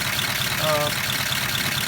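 A 1953 Pontiac Chieftain engine idles steadily and smoothly, a close, continuous low rumble with a faint brief tone partway through.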